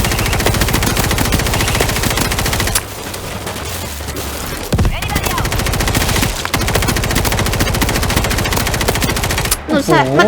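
Sustained rapid automatic gunfire with booming shots in the zombie video game World War Z, loud and continuous, briefly dropping off midway before resuming, ending with a warbling electronic tone.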